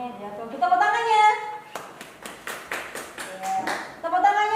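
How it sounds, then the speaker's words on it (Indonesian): Schoolchildren in a classroom clap their hands for a group. A voice speaks first, then a burst of irregular, sharp claps builds and fades before talking resumes. "Ya, tuh, kita tepuk tangannya."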